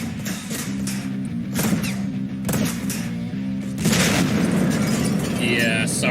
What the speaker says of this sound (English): the final wave has dynamite that they throw at me that I can't easily avoid